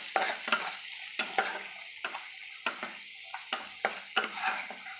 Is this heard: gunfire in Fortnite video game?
no